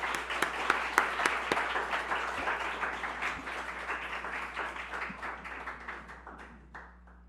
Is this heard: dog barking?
no